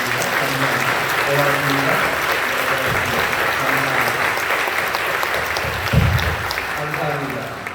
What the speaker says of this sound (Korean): 격려하며 박수 한번 해주시면 좋겠습니다